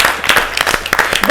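Audience at the Bonana 2025 celebration show claps in a brisk burst of applause, sharp hand claps scattered over a short stretch at close range.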